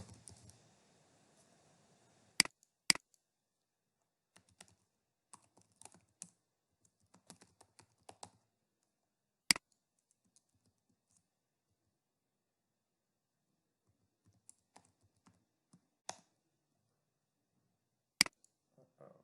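Sparse, irregular keystrokes on a computer keyboard as a login is typed, with single sharp clicks and short bursts separated by long silent gaps, close and clear.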